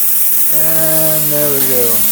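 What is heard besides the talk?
plasma cutter pilot arc without ground clamp attached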